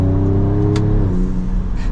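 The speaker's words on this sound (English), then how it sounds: "I like the tone of the exhaust as well. It definitely sounds like a V6." A 2024 Ford Ranger Raptor's V6 exhaust drones steadily with a layered low tone, loud and close from inside the cabin, holding an even pitch without other voices.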